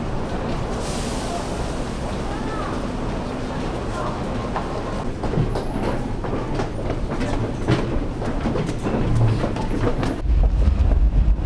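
A Seoul metro train arrives and runs through a station, with a loud, steady rumble of rolling wheels, rhythmic clacking that grows heavier toward the end and a brief high squeal. Voices can be heard faintly in the background.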